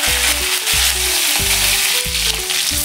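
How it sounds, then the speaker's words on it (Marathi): Mustard seeds, cumin and curry leaves crackling in hot oil for a Bhogi bhaji, a loud, continuous close-up hiss running under low rhythmic pulsing tones. "तेल आपले हलकेसे गरम झाले की त्यामध्ये आपण मोहरी, थोडेसे जिरे,"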